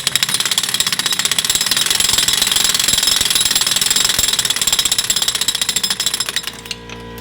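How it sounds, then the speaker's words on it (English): A power impact tool hammers rapidly and continuously on a car's tie rod end, a loud, fast mechanical rattle that runs for several seconds before winding down. "I wouldn't have any kind of way of impacting the tie rod end out."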